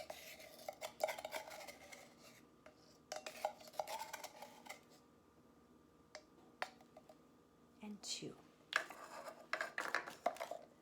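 A measuring spoon scoops half teaspoons of a dry ingredient for banana bread, giving light scraping and clinking taps against bowl and spoon in several short bursts at close range, with no talking.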